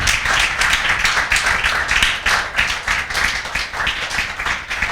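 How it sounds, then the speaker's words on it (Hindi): An audience in a classroom lecture claps steadily and loudly for several seconds. The many overlapping hand claps form a dense, continuous patter with no talking over it. "भैया के लिए जोरदार तालियां बजाओ बजाओ"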